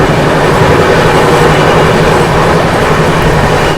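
The Ananya Express rolls along a line cut through hills in Rajasthan, a loud, steady, close rumble of wheels and carriage noise filling the whole stretch without pause.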